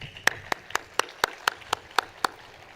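Hands clapping at a university convocation ceremony, heard as a steady, evenly spaced series of about nine sharp claps, fairly close and distinct rather than a dense roar of applause.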